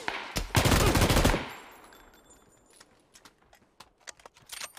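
Gunfire in the battle royale game PUBG on the Miramar desert map: a loud sustained burst of rapid shots up front, then scattered sharper distant cracks and pops at irregular intervals.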